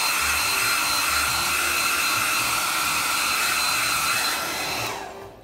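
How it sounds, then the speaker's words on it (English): A hair dryer blows in a steady, loud whir with a high tonal whine, then switches off and winds down near the end. "I don't like to use a hairdryer, but just for the demonstration."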